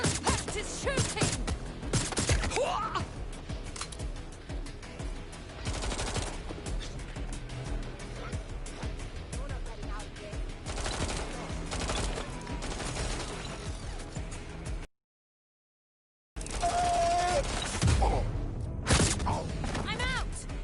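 Gunfire rattles in Watch Dogs Legion during a firefight, with repeated shots, thuds and crashes running throughout, a brief dropout near the end, and voices calling out over the shooting.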